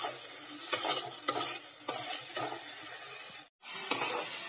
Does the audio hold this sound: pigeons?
no